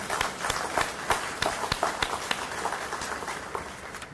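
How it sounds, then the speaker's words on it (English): An audience at a school district anniversary celebration applauds, a fairly faint, sparse patter of individual claps heard from a distance. "That is worth the applause"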